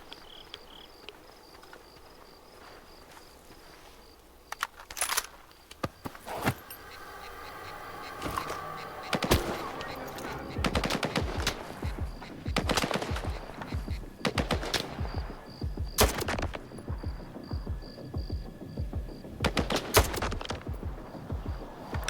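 Gunfire in STALKER 2: Heart of Chornobyl: bursts of automatic fire and single sharp shots crack at irregular intervals over a faint insect-like chirping ambience, growing denser as the fight continues.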